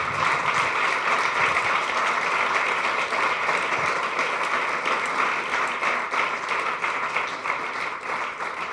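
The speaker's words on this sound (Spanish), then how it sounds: "Denle un aplauso al Señor." A church congregation applauds during a sermon, sustained dense clapping holding steady throughout and tapering slightly near the end, with no speech over it.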